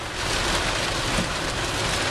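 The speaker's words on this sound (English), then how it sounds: "And now we're in the middle of the rain." Steady rain pours down outdoors, a dense, even hiss of drops hitting surfaces that stays loud and constant throughout, with no voices.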